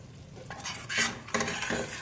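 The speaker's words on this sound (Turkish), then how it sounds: "Devamlı karıştıraraktan rengi değişinceye kadar kavurmamız lazım." A spoon scrapes and clinks against a pot as flour is stirred and roasted in butter and oil for halva, with several distinct scraping strokes over a soft sizzle.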